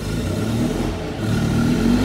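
A car engine, running on Bunnings fuel, revs up and down close by, a steady rough roar that dips briefly and then climbs again, with no talking.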